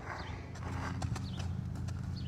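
A horse being worked in training moves about on the ground, its hooves giving several distinct, irregular clip-clop thuds, fairly close, over a low steady background.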